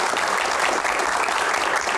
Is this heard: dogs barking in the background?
no